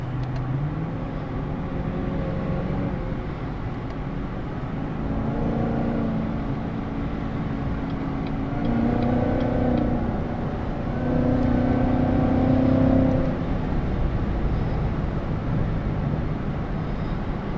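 Cadillac CTS-V driven on a racetrack, its engine a steady loud drone whose pitch rises and falls with acceleration, close and continuous throughout with no talking.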